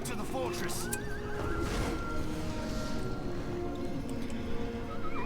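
A horse neighs in the Battle for Middle-earth II video game, with Rohan cavalry among the units: a couple of rising whinnies early on and another near the end, over busy battle ambience, hoofbeats and someone talking.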